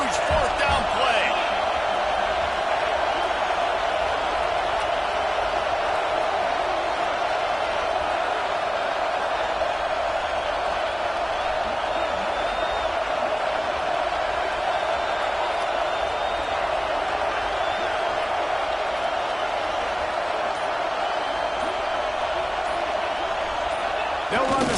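A stadium crowd roars steadily through a big fourth-down play at a college football game against UCLA, a dense, continuous wall of noise that holds level from start to finish.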